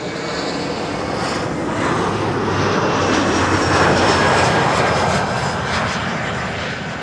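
A seven-year-old Embraer airliner landing at Schiphol on runway 06 (Kaagbaan), with a loud, steady engine roar filling the whole stretch and no voices over it.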